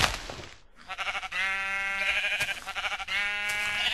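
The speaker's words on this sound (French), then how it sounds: "Je vais en tuer. Tuer les moutons." Blocky Minecraft sheep bleat in the video game, a few wavering nasal bleats in quick succession following a brief thump, fairly loud and with no talking over them.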